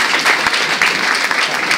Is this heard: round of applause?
yes